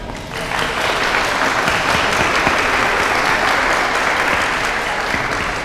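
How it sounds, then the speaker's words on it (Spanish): An audience at a civic press event gives a long round of applause, a dense, even clatter of many hands that starts quickly and holds steady at strong volume for over five seconds before easing slightly at the end. "Un aplauso."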